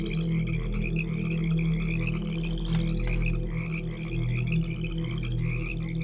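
Frogs croak in a dense, continuous chorus, with steady low pulsing calls layered under brighter repeated chirps, close and fairly loud throughout.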